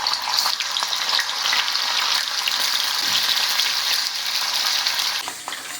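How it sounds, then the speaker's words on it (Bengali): Paneer pieces frying in hot white oil in a wok, a dense, even, close sizzling hiss that holds steady throughout and eases slightly at the very end, with no voices. "তেল খুব ভালো মতো গরম হয়ে গেছে। পনিরগুলো আমি ভেজে নেব।"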